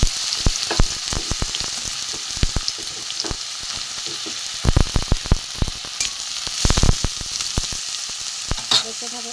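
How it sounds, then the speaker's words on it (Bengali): Eggplant pieces frying in hot oil in a pan, a steady loud sizzle throughout with frequent sharp crackles and spatter bursts, close up, no voices. "প্রথমে বেগুনগুলো প্রথমে আমি ভেজে নেব তেল গরম হয়ে গেছিলো"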